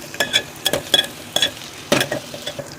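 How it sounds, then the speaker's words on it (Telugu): Onions frying in a pan for bendakaya pulusu, heard as bursts of stirring and scraping with light sizzle, several distinct strokes in an uneven rhythm, close and fairly loud with no talking. "ఉల్లిపాయలు పచ్చివాసన పోయేదాకా వేయించుకోండి బాగా."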